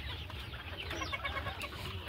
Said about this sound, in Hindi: देखें मुर्गे का चूज़ा है ये